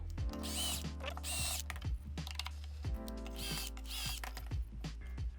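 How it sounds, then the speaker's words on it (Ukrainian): A power drill whirs in several short bursts, stopping and starting, drilling through a Blum template into a drawer front, with clunks and handling noises between the runs. "І свердлимо через другу групу отворів"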